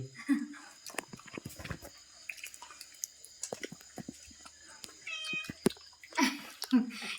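A pet cat meows a few times, short and fairly faint, at a lively birthday gathering with people chatting and small clinks and taps around it.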